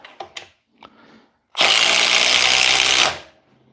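A Milwaukee M12 power tool drives a 5/16 by 6 inch structural screw in one loud, steady whirring burst of about a second and a half, preceded by a few soft handling clicks.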